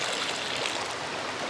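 Water sloshing and swirling in a gold pan during panning, a steady, close, fairly loud broadband wash with no talk.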